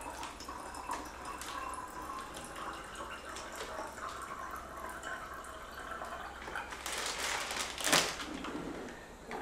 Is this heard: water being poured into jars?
yes